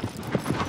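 Horse hooves clip-clop briefly in Shadow of the Colossus, a few soft, muffled steps at a quick even pace, faint and short.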